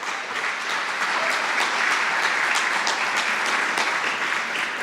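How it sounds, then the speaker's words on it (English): Dense, sustained applause from a large crowd at a Texas track and field coaches' Hall of Fame induction ceremony, loud and even throughout with no pauses, clapping blending into a continuous roar. "round of applause"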